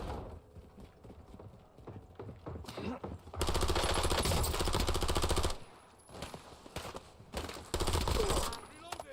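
Sustained rapid gunfire in the video game Warzone, a loud dense burst for about two seconds, then shorter clattering volleys, with quieter game noise between them.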